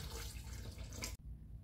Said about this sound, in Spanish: Le voy a agregar un poquito de agua.